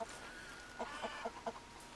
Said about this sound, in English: These are the chickens and also really detailed.